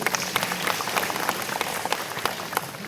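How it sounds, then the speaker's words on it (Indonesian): Scattered, moderately distant clapping from an audience at an Indonesian Isra Mi'raj religious gathering, uneven and patchy hand claps rising and falling over a few seconds. "Tepuk tangan dulu untuk perempuan."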